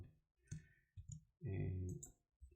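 Computer mouse clicks from right-clicking to create a new file, sharp brief clicks near the start and end with a person talking over the middle.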